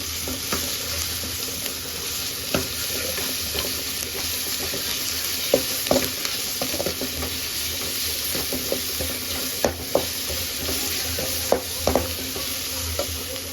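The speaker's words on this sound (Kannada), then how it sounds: "ಆನಿಯನ್ ಚೆನ್ನಾಗಿ ಫ್ರೈ ಆಗಲಿ." Chopped onions fry steadily in a pan for a home-style chicken fry, giving a constant close sizzle broken by frequent scraping taps of a spoon stirring them, with no talk.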